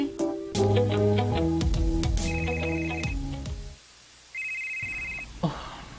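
A cellphone ringtone plays loudly and alone, a repeating melodic pattern of bright tones with a short pause before it rings again.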